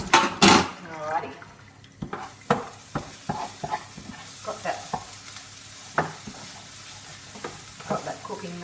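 Food fries in a pan while a utensil scrapes and stirs it, giving sharp knocks and scrapes over a continuous sizzle, with a short burst of voice near the start.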